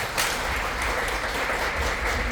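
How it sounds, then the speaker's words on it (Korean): Crowd applause at a Korean church Sunday service in Gurgaon welcoming a minister and his family, a steady wash of many hands clapping at moderate distance. "박수로 크게 환영하겠습니다"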